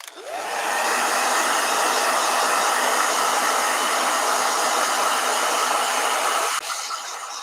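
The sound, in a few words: blow dryer drying watercolor painting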